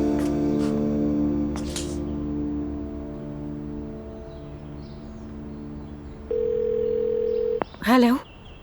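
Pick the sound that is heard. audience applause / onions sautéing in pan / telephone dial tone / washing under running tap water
telephone dial tone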